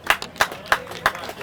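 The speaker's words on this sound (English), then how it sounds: "Give them a round of applause." Four evenly spaced claps ring out at a trails celebration, honoring a police bike unit, sparse and fairly distant rather than a full crowd ovation.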